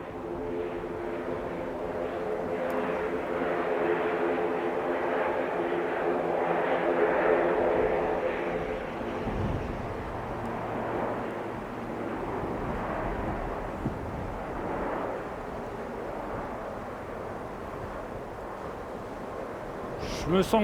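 A loud jet engine roars steadily as an airplane takes off at Saint Pierre and Miquelon in winter, building and then slowly fading as it moves off, with voices faintly audible underneath.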